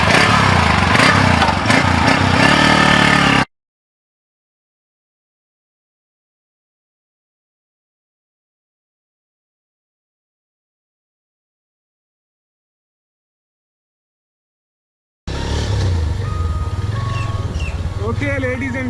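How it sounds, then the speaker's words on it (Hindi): A Honda CB 150 motorcycle engine drones steadily while being ridden, with rushing wind noise and a voice over it, broken by a long stretch of total silence before the engine returns. "I am actually riding the Honda CB 150S"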